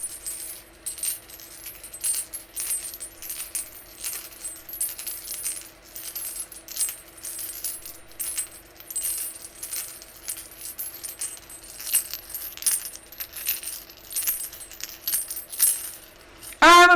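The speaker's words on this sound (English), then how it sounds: "that was just rolling it through the dice tower" Dice rattle and clatter down through a dice tower, a close, continuous run of quick sharp clicks and tumbles lasting most of the stretch, with no talking.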